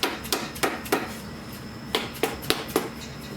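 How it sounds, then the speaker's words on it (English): During an RB25DET engine teardown for a Z32 build, a hammer strikes a stuck part in sharp metallic blows: a quick cluster of three, a pause, then four more spaced hits, close and loud with no talking. "And use the hammer again."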